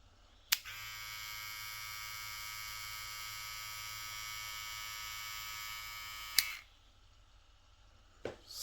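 Electric hair trimmer, model 1973, switched on with a click, buzzing steadily and fairly faintly for about six seconds, then clicked off, followed by another brief click.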